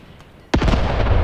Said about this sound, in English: That was, however, a good explosion.